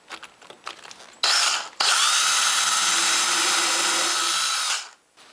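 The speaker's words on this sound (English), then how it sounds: "I can go ahead and drill for the handle" A power drill whirs in one long steady burst after a few light clicks and taps, then winds down and stops, drilling holes through a jig for a drawer pull on a workshop cabinet.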